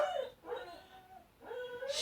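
A dog indoors gives a few high, whining yips and short barks in broken bursts, close and fairly loud, ending on a sharper bark.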